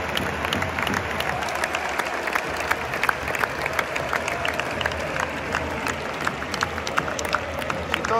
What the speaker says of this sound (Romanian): Stadion aplaudă.